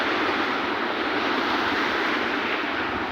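Sea waves rolling in near Rameshwaram, a steady broadband wash of surf and wind, loud and continuous with no distinct breaks.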